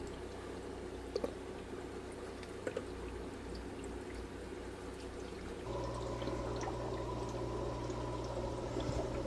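Water siphoned out of a fish tank holding Sturisoma aureum whiptail fry, a steady close trickle and gurgle that runs the whole time and grows slightly louder partway through, with no voices.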